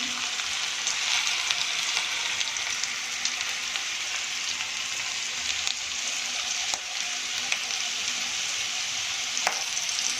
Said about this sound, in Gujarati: આપણા બટેકા હજુ થોડા સંતળાય